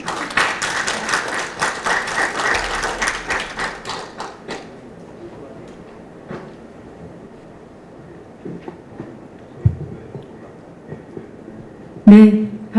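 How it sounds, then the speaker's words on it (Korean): An audience at a product safety forum gives a dense burst of applause to welcome a keynote speaker, then it fades into a quiet room with scattered thumps. "큰 박수로 부탁드리겠습니다."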